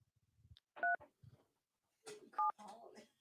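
Two short bursts of telephone keypad dialing tones, each a clear pair of pure beeps, mixed with faint nearby speech and scattered handling noises.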